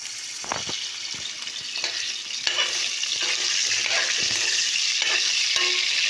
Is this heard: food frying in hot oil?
yes